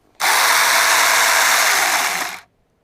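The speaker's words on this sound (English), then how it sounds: "Saker mini electric chainsaw." A Saker 24-volt mini electric chainsaw revving in a short burst of about two seconds, a loud, bright, high-pitched whirring buzz that starts sharply and winds down, with no talking over it.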